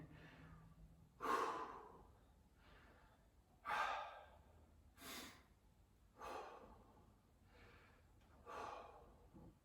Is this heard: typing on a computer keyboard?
no